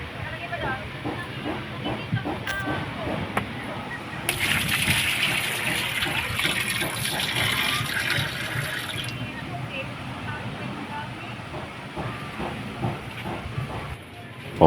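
Water is poured over a Sharp washing machine being checked for a leak, a broad hissing splash that rises abruptly, runs steadily for several seconds, then stops, over an ongoing background rumble.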